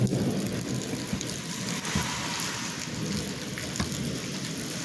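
Steady outdoor rain falls in a dense, even hiss, with faint low rumbles underneath and no voices.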